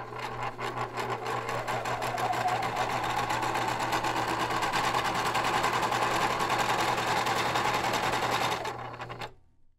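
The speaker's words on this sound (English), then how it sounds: "So I guess it's time that we start sewing." A Minecraft sewing machine whirs in a steady, loud mechanical run with a rapid needle-like chatter for about nine seconds before cutting off abruptly.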